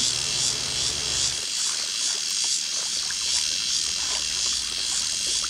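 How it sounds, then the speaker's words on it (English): Cicadas drone continuously in high, pulsing waves on a summer afternoon in rural Taiwan, with a faint low rumble early on. "The daytime drone of cicadas yields to the coming night."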